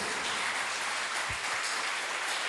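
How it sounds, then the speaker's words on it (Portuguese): A church congregation breaks into loud, dense applause, a thick unbroken roar of clapping that stays strong from start to finish. "Dê um aplauso bem forte ao Senhor Jesus."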